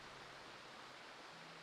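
A waterfall in the online game Final Fantasy XIV rushes as a faint, steady broadband roar of falling water, unbroken and without voices.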